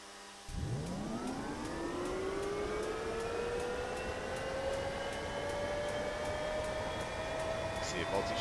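Huey helicopter starter motor in the DCS flight simulator, a whine kicking in and steadily rising in pitch as the rotor spins up, then holding a sustained climbing tone.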